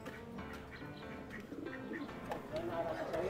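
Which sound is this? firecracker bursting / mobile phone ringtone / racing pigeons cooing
racing pigeons cooing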